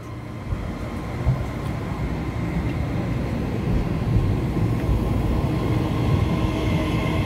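An EMU3000 twelve-car electric multiple unit train departs from Fengyuan station in Taichung, Taiwan, a steady rumbling roar of the passing train that builds slightly in loudness and stays continuous, with no talk over it.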